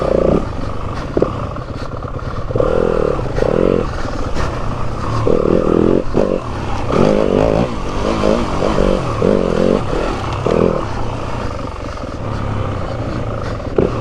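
A 2022 Yamaha WR250F dirt bike engine roars and surges in bursts during a winter ride, loud and close, rising and falling with throttle over steady wind noise.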